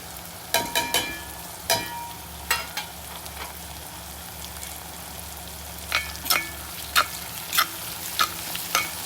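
Capsicum, green chili and curry leaves sizzle steadily in hot oil in a pan, with a dense frying hiss broken by sharp scraping stirs and clinks of a spatula at irregular intervals, close and alone with no talk.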